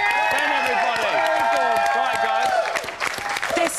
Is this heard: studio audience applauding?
yes